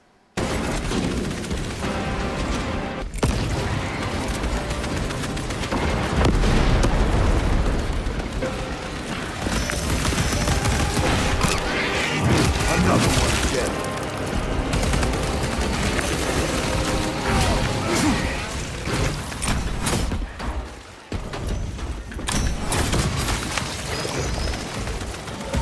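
Grenades explode amid continuous heavy gunfire in the Space Marine 2 video game, a dense, loud barrage of booms and rapid shots that runs almost without pause, with no voices.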